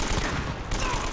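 Shotgun fire in Uncharted: Drake's Fortune: a dense, loud volley of gunfire and impacts fills the brief moment, with game noise churning underneath.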